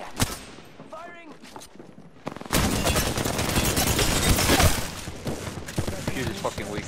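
Gunfire in an Apex Legends ranked match: bursts of rapid weapon fire swell into a dense, loud, sustained barrage, then thin to scattered shots, with voices now and then over the shooting.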